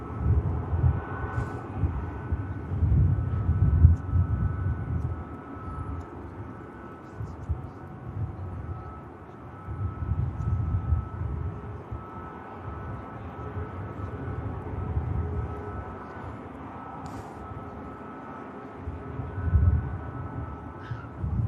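An Airbus A380 turning onto the active runway for departure at Manchester Airport produces a deep, rumbling engine drone that pulses and swells over a long stretch, heard from a distance with a steady low roar.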